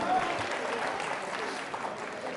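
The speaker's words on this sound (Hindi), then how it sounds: "तालियां बजाइए इन सभी के लिए आप।" An audience at a quiz show for trainee state services officers claps in steady, dense applause that holds evenly throughout, a broad wash of many hands at moderate level.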